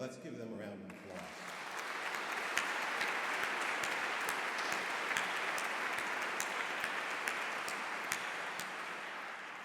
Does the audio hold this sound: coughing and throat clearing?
no